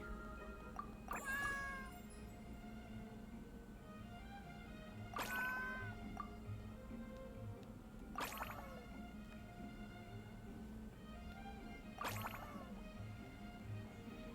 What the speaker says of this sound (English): Where's the little kitty?